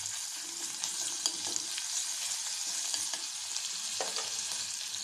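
Cumin, asafoetida and ginger-garlic paste sizzling in hot oil, a soft continuous frying hiss with small crackles and the occasional stir, fairly faint and without talk.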